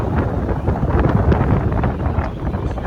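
Strong 30-knot wind buffets the microphone in a harbor at Cap City Marina, making a loud, continuous low roar with gusty surges and no voices.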